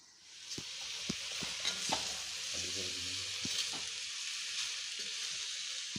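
A spinach curry sizzles steadily in a pan while a spoon scrapes and stirs it in a series of distinct, irregular strokes, close up with no talking.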